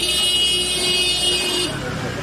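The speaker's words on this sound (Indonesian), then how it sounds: "Untuk menambah efek suara hiruk-pikuk jalan, saya juga merekam klakson motor tersendiri." A motorcycle horn honks on a busy street, a loud, steady tone held for about a second and a half and then cut off, with traffic noise underneath.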